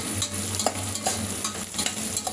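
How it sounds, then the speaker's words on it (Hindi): Onions brown slowly in oil in a pan for a vegetable pulao, giving a constant soft frying hiss with a few light stirring clicks, close and steady, no voices. "ये देखिए, हमारा प्याज अच्छे से ब्राउन हो रहा है धीरे धीरे।"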